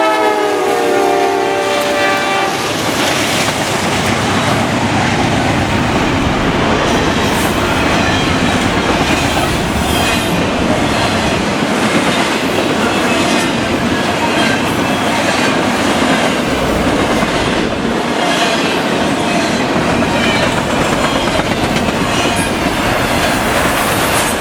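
A long Norfolk Southern freight train hauled by diesel locomotives, including a GE Dash 8, rumbles steadily past close by, continuous wheel and engine roar with squealing and clanking, a horn sounding briefly near the start.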